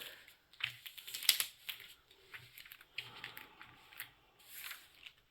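Protective film is peeled off a diamond painting canvas in short crackling, tearing bursts separated by brief pauses, close and quiet.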